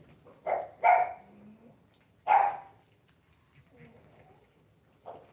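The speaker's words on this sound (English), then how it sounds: "Why are you barking out the window?" A pug barks a few times out a window, with short gaps between the barks and quieter vocal sounds in the background.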